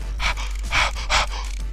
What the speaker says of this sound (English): It sounds like someone's panting in the music.